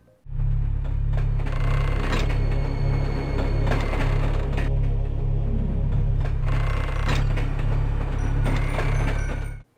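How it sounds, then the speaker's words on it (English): A steady, loud mechanical chugging with a low rhythmic rumble and clattering, like a small train rolling along tracks, looping continuously in the train minigame of the first Hugo PS1 game. "That's the sound of the train minigame from the first Hugo PS1 game."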